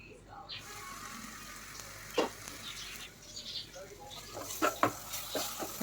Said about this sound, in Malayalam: നമുക്ക് നല്ലോണം ഒന്ന് ഇളക്കി കൊടുക്കാം